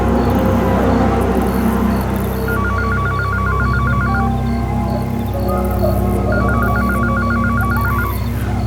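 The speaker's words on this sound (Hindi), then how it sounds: "तुम्हारा फोन बज रहा है।" A telephone rings in a repeating two-burst electronic pattern, loud and near over a dense musical background in a horror drama scene.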